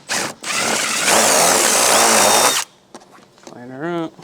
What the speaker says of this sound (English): I like to use a 3/8 drill bit, and you drill right in between these two screw holes here.